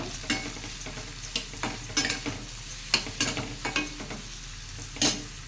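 Spatula stirring and scraping in a sizzling pan as turmeric goes into hot oil, with sharp repeated clatters over a steady frying hiss, close and fairly loud, no talk.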